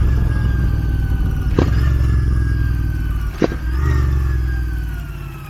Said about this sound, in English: you will basically hear the sound of the engine doing boom, boom, boom